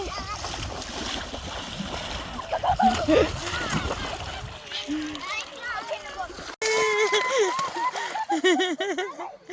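Children splash and play in shallow sea water on a Swedish summer beach, with bursts of splashing under lively kids' voices and chatter close by.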